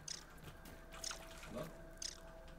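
A character drinks water in the video game Grounded, heard as faint, evenly spaced watery sips and drips, three short liquid bursts roughly a second apart over a quiet background.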